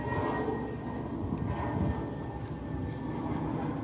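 An airplane passes near Sangster International Airport in Jamaica, heard as a broad, steady distant engine roar with a faint high whine throughout, no speech.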